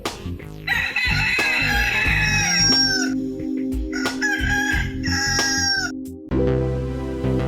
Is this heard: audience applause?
no